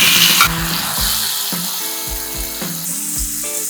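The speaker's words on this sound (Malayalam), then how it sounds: "നമ്മുടെ സ്വീറ്റ് ചില്ലി സോസ് ഇതിൻ്റെ മുകളിൽ ഒഴിക്കുകയാണ്" Sweet chilli sauce poured over beef frying in a pan sets off a close, crackling sizzle, broken by repeated clicking and scraping sounds from the cookware in an uneven rhythm.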